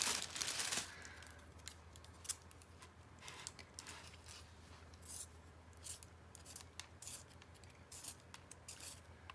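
A pencil is turned in a sharpener, giving soft scraping, rasping bursts that come in short irregular strokes, quiet and close, after a brief louder rustle at the start, with no talking.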